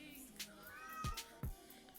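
A cat meows several times in a short indoor stretch, a drawn-out tonal call followed by two sharper, louder meows close to the microphone, heard alone without talk.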